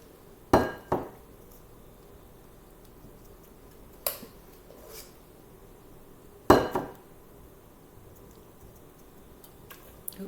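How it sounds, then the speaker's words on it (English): Utensils clink against a bowl and muffin tin while low-carb muffin batter is spooned into cups: a few sharp, bright clinks scattered over a quiet kitchen background, no talking. "you're gonna fill the muffin cups up most of the way"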